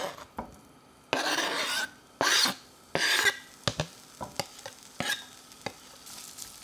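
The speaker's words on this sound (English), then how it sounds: "I'm just going to heat this through and get a light sear on it" Chopped meat sears in melted Kerrygold butter, with bursts of loud scraping and stirring in the pan between quieter stretches of soft sizzle and light taps, close up and without speech.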